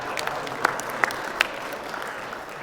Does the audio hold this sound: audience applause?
yes